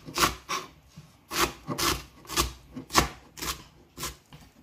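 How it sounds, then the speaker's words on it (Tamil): A knife chops plantain peel into small pieces for Jaffna-style sambal, giving steady close scraping cuts roughly every half second with no talking. "இந்த மாதிரி எல்லா வாழைக்காய் தோலையும் சின்ன சின்னதாக கட் பண்ணி எடுத்துக்கோங்க."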